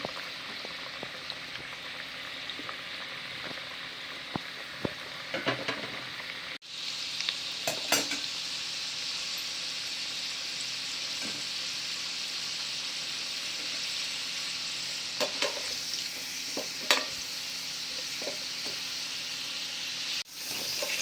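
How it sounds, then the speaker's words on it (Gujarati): Besan-suji muthiya dumplings fry in hot oil with a steady, even sizzle and bubbling throughout, joined by occasional clinks and stirring knocks near the middle and end. "મુઠિયાને તળી દઈશું."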